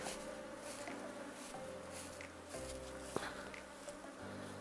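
Honey bees buzz steadily around an opened beehive during a hive inspection, a dense low hum carrying through the whole moment with a faint knock partway and no talking.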